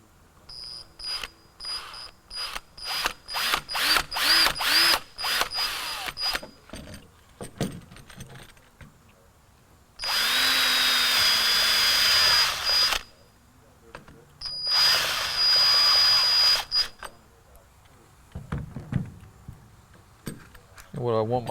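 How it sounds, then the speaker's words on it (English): A power drill with a step drill bit runs in two bursts of several seconds each, cutting a hole in the metal of a 1999-2003 Ford Powerstroke 7.3L truck, with clattering, rattling handling noises and some talk in between. "So I'm going to cut a hole for my switch wire to go through. I'm just going to use a step drill here"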